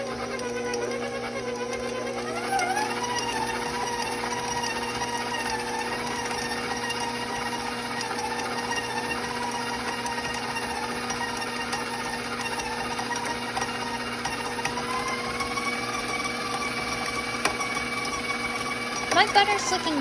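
An electric mixer creams butter for chocolate chip cookie bars, a steady whirring motor hum with slight shifts in pitch, running continuously at close range without pause.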